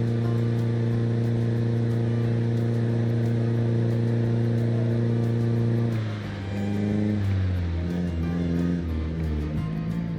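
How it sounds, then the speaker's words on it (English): Motorcycle engine in the video game Project Zomboid, a loud steady drone with layered tones that holds evenly for several seconds, then shifts and dips as the bike changes speed, running alone with no talk. "I just have some idea of the range of the noise of this motorcycle."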